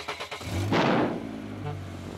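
A cartoon truck's engine revs up loudly in a garage, a rising rumbling burst that swells then settles into a steady hum, with brief voice-like sounds before it.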